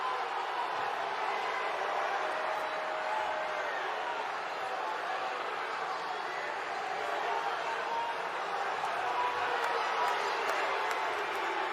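Arena crowd at a college wrestling dual meet, a steady roar of cheering and crowd noise that holds at an even level throughout, with no distinct individual voices standing out.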